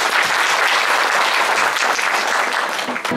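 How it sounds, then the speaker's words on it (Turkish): Dense, steady applause from a concert audience greeting students who performed a guitar recital, loud and unbroken throughout, fading slightly at the very end. "Alkışlarınız öğrencilerimiz için"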